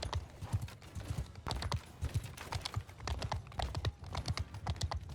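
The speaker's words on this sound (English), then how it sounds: "What we're actually going to do is flank with the cavalry." Cavalry horses gallop in the video game Mount & Blade II: Bannerlord, with rapid, irregular hoof clip-clops in quick bursts, fairly near and moderately loud, and no talk.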